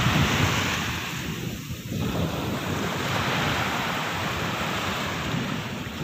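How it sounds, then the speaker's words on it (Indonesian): Waves wash and roar steadily at a beach on a fairly windy day, with broad continuous surf noise and wind buffeting the microphone, no voices heard. "Ombaknya juga lumayan."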